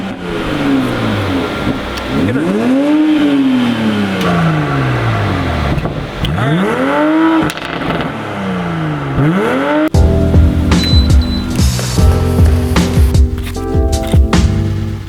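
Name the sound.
Toyota Supra sports car engine revving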